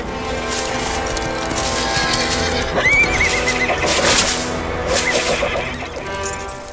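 A horse whinnies loudly over a busy backdrop of clip-clopping hooves and mechanical clatter, with a second shorter neigh following, close and dense throughout.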